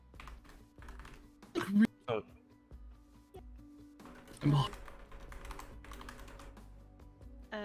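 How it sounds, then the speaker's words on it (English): Computer keyboard typing clatters during an online roleplay game session, with a voice briefly exclaiming over it and louder bursts of speech near the middle. "Bloody keyboard."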